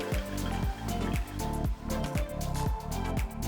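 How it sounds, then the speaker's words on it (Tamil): Grated cucumber is squeezed by hand in a white cloth over a strainer, with wet squishing and dripping, trickling water that pulses in short, repeated squeezes, close and fairly quiet. "ஒரு ஸ்ட்ரெயினரில் ஒரு வெள்ளை துணி வச்சு அதில் துருவின வெள்ளரிக்காய் சேர்த்து கையால் இந்த மாதிரி பிழிஞ்சி எடுத்துட்டோம்னா நல்ல தண்ணி எல்லாம் வடிஞ்சிடும்"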